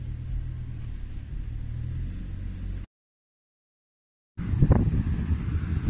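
Toyota Land Cruiser four-wheel drive on a road in Namibia: steady low engine and road rumble with wind noise, cut by a few seconds of silence, then resuming louder with a rougher surge.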